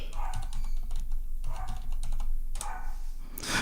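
Dogs bark in a few short bursts early in the morning, mixed with steady computer keyboard typing close by and no talking.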